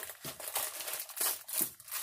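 Heavy packaging torn apart by hand, a series of sharp crinkling and ripping bursts close to the microphone, quiet between pulls, with no voices.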